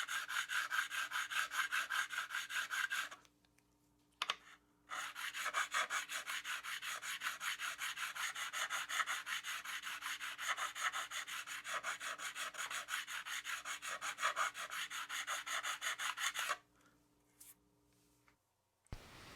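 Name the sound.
filing guitar frets with a StewMac Z file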